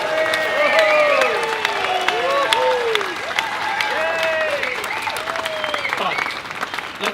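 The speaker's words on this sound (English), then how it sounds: "Let's give them a round of applause." A rally crowd in Sydney campaigning against bulldozers clearing Leard State Forest for coal applauds and cheers, with sustained clapping under rising and falling whoops and shouts from many voices throughout.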